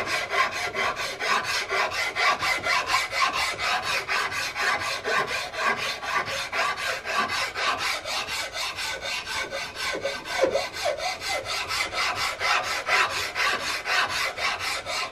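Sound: hand file smoothing wood around a rifle stock mortise

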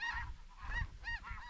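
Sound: snow geese honking as they drop in

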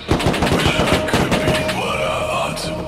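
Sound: gunfire in the video game Rust

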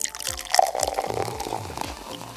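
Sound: sipping a drink of water

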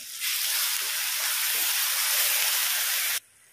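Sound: tomato paste added to hot oil, sizzling

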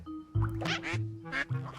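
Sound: ducks quacking in the video game Dark Riddle

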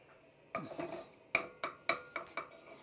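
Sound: butter being put into a saucepan

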